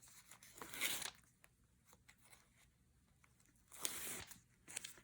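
Kinesiology tape being cut into a strip for fat pad taping, two crisp tearing, snipping bursts near the start and end, with faint handling noises between them.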